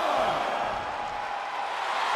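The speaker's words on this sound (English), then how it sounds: "The sound of this crowd is deafening, and he's asking for more." Wrestling arena crowd during a last-man-standing match, a loud sustained roar of cheering and shouting that fills the space without letup, with a brief rising whoop near the start.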